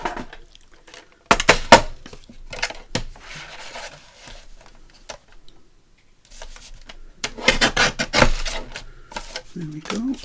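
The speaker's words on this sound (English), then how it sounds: "I'm going to trim this in the Timmy trimmer." A paper trimmer slices a page taken from an Edith Holden book, giving sharp bursts of cutting and sliding clatter in two main clusters with quieter handling and paper rustle between them.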